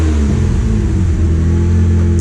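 A Mitsubishi Galant VR4 engine, being repaired for a misfire, runs steadily at close range with a deep, even rumble and no talk over it.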